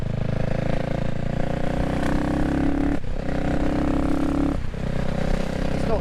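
A CCM motorcycle engine revs while being ridden, a loud, close, throaty drone that rises and falls with two brief dips as the throttle eases, with some rattle and road noise beneath.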